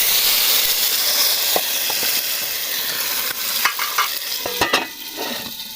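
Fried red chili tempering poured over kadhi, bursting into a loud close hiss and sizzle that fades, broken by sharp clinks of the pan and spoon.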